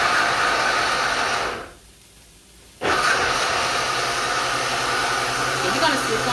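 A countertop blender grinds cashews into a creamy vegan alfredo sauce, a loud steady whirring roar that drops out briefly mid-clip and then resumes at full strength.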